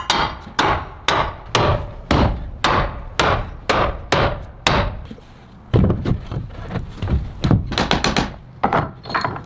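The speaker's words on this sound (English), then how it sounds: "this black frame is now being precisely fitted into the wall opening after cutting it" Loud, evenly spaced thuds and knocks ring out as a black window frame is driven into a wall opening, followed by a quicker, denser run of hits toward the end, heard close up with no talk.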